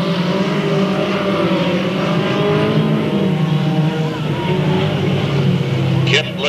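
Race cars roar around the Delta Speedway oval during a 2000 short-track event, engines droning loudly and continuously with shifting pitch as the pack passes, while a race announcer talks over the action.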